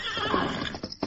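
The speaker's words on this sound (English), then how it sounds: "red all of his strength to gain his feet and pull himself onto the back of the great horse Silver." A great horse whinnies in a short, shrill neigh in a radio drama, followed by a few quick clip-clop hoofbeats, close and clear.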